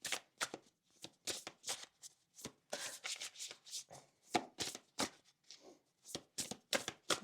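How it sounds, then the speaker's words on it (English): Tarot cards being shuffled by hand, a quiet, close run of crisp riffling bursts and soft slaps coming in an uneven rhythm with short pauses between. "it's also about the sound of the shuffling"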